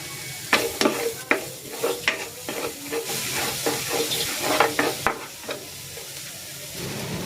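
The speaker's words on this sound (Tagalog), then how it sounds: "Igigisa ko na tong bawang." Garlic sautés in a pan with a steady sizzling hiss, punctuated by repeated scraping strokes of a utensil stirring in an uneven rhythm, close and fairly loud.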